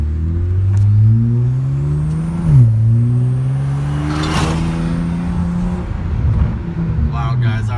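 Loud car engine fitted with newly installed 19T turbos revs up and down repeatedly, rising and falling pitch sweeps with a sharp blip midway, close and dominant, with a voice speaking over it.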